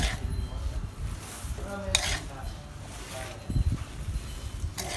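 A soft spatula scraping and clinking in a small pan while mixing shrimp paste fried rice over low heat, irregular metallic taps and stirring rustles close up, with someone talking over it.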